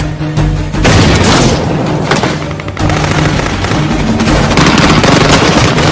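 A grenade blast in a jungle combat scene from a film: heavy, loud booms with sustained roaring rumble and crackling debris, a second burst following the first, filling the whole clip.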